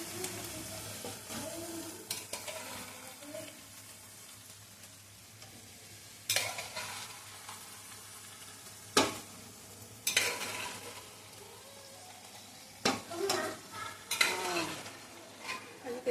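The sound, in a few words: peas being sautéed in a pan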